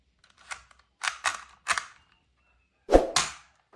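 Toy cap gun pistol fired in short bursts, about four sharp cracks close together, a pause, then two more loud snaps nearby.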